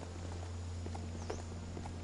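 In the video game Biomutant, a ridden horse's hooves clip-clop in a soft, steady rhythm over a constant low engine-like hum.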